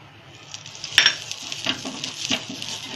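Rice flour ghavan batter sizzles on a hot oiled pan, a soft steady frying hiss broken by a few sharp clinks and scrapes of a utensil against the pan.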